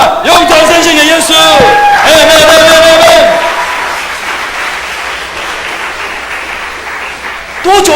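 A church congregation at a Saturday worship service shouts loudly for a few seconds, then breaks into sustained applause that carries on, fading slightly, until a voice returns at the very end.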